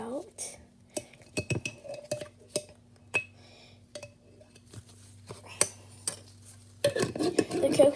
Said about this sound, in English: I'm going to be taking the spoon and not scooping a lot out, just a little.